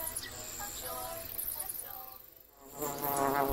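A bee buzzes in the Cartoon Network Journeys VR game, a thin, wavering drone that weaves close and then away. It drops to near silence briefly before returning louder.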